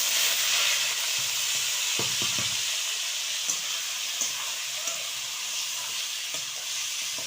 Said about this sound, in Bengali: আলু ভাজা করব।